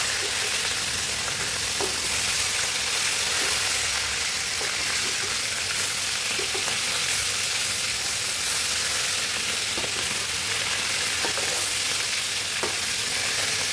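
Fish pieces fry in hot oil in a pan, giving a steady, dense sizzle throughout with occasional soft clicks of turning, close and alone with no talk.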